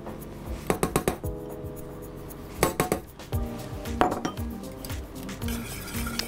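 Softened butter being stirred into lemon cream in a bowl, with a series of light clinks and taps of a utensil against the bowl and soft scraping between them, close by, with no talking.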